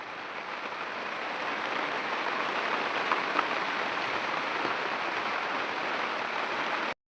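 Steady, dense rainfall hisses on surfaces without a break, close and fairly loud, and no voices or other sounds come through.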